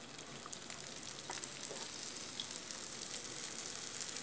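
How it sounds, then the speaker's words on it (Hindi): Ghee sizzles in a pan around a sweet whole wheat flour cheela, a soft continuous hiss and crackle with small pops, fairly quiet and steady, no voices. "अब मैं साइड से थोड़ा सा घी डाल देती हूँ।"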